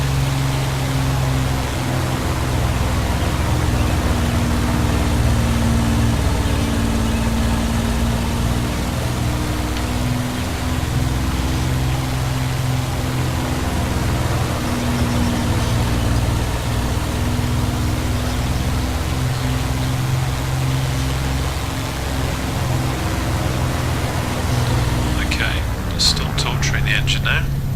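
Supermarine Spitfire piston engine running steadily at close range in a flight simulator, a dense, constant drone with a low harmonic hum throughout, and a brief rattle near the end.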